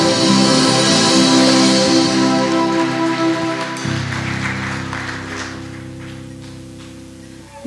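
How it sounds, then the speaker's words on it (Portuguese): A church congregation applauds during a Christmas service, a dense, loud wash of clapping that fills the space and slowly fades over several seconds, with no talk over it. "Vamos aplaudir ao Senhor."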